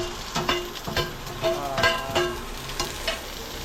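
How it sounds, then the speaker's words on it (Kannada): Onions roasting lightly in a pan for mutton sambar sizzle continuously, with repeated scraping stirs giving an uneven rhythm, heard up close and without speech. "ಈರುಳ್ಳಿ ಸ್ವಲ್ಪ ಲೈಟಾಗೆ ಅಷ್ಟು ರೋಸ್ಟ್ ಮಾಡ್ಕೋತೀನಿ"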